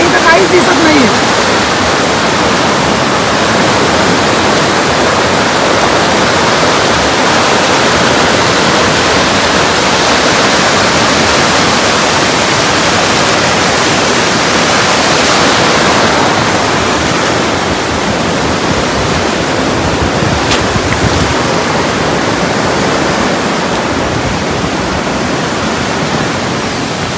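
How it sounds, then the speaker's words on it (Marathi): Torrential rain pours down beside a swollen village river in Kalamb, with floodwater rushing in a loud, steady roar for the whole stretch. A voice speaks now and then under the noise. "बघू शकता तुम्ही काल रात्रीपासून जोरात पाणी पडतो"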